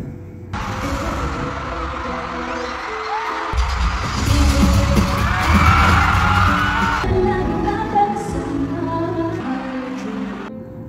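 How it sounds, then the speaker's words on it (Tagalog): Fans of a girl group scream and cheer at a concert, a loud sustained crowd roar with whoops and yells swelling in the middle, backed by booming low music throughout. "Grabe talaga ang hiyawan ng mga fans at supporters ng Beaniverse."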